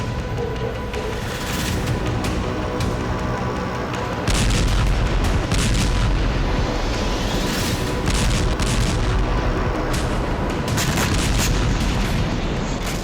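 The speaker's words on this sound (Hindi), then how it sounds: "ट्रंप के चुनाव जीतने के बाद देर रात इजरायल ने लेबनान में अब तक की सबसे भीषण बमबारी की।" Israeli bombing in Lebanon near Beirut, with repeated heavy booms and blasts at irregular intervals over continuous rumbling, the impacts growing louder partway through.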